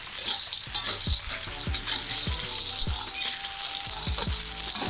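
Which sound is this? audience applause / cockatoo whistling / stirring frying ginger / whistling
stirring frying ginger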